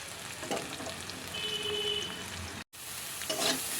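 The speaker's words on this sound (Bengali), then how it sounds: "এখন আমি বরবটি কড়াই ও আলুটা ভেজে নিচ্ছি" Long beans and potato pieces frying in a wok give a steady, moderately quiet sizzle with occasional stirring scrapes and a faint tone, broken by a brief dropout near the end.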